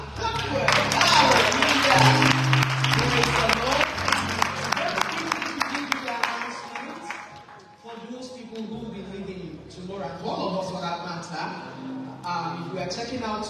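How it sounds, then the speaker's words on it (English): A congregation at a church conference session breaks into hearty applause and some cheering for several seconds, which then fades as voices take over, with scattered claps continuing underneath. "we want to clap, clap."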